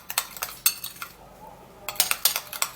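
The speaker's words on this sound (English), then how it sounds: "Then we'll stir that up, and it should be thicker" A spoon stirs a thick baking soda mixture in a bowl, giving a run of quick, close metallic clinks and scrapes that pause briefly midway before resuming.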